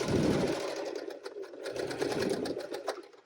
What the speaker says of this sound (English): I'm going to backstitch up at the top here and sew right off the edge.